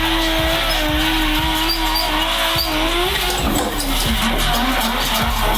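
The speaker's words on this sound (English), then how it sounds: "Carlos is getting a lesson in drifting. On a sim" Drifting in a racing simulator game, with a continuous engine drone and repeated squealing tire skids over several seconds and a rhythmic low thumping beneath.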